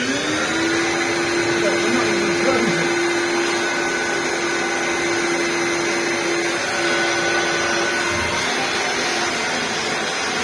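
A broken 1998 Dyson DC01 vacuum cleaner runs continuously, a loud, steady motor roar with a sustained whine and airy rush, nearby and unchanging across the whole stretch.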